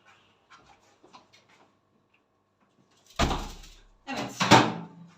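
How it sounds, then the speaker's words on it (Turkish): A kitchen door in a home is pulled shut with a solid thud and a second louder bump after a quiet stretch, heard close and clear with no speech. "mutfağın kapısını da kapatalım"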